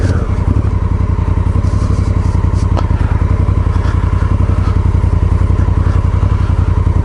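A Honda Africa Twin motorcycle rides through spring snow with a loud, continuous engine drone close to the listener and a single thump partway through.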